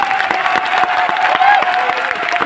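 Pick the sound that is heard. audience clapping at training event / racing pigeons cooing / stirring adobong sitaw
audience clapping at training event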